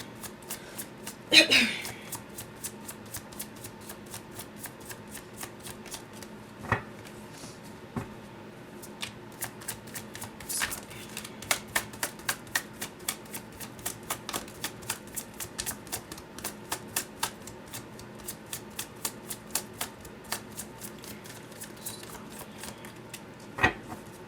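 Tarot cards shuffled by hand during a reading, a long run of rapid, crisp riffling clicks in a steady rhythm, with a louder flurry early on as cards spill, close and clear.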